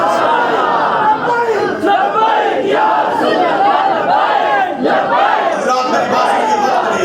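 A large crowd at a religious gathering in Tibba Muhammad Naga chants a slogan in unison, loud and close, with massed voices rising and falling in repeated waves that fill the whole stretch.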